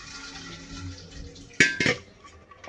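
Rice is washed in water in a pot, starting with a soft steady swish and then a couple of louder sloshing splashes and clatters close by.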